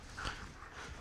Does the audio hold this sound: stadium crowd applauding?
no